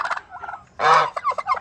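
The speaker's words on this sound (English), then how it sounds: "And the dude gobbled at me." A young turkey lets out a quick gobble, a loud, rattling burst close by, set among shorter clucking calls before and after.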